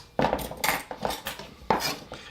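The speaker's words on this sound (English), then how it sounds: "We're just chopping it up enough for the mini chop." Carrots are chopped by hand with a knife on a board, several sharp close knocks at an uneven pace with some clatter between them.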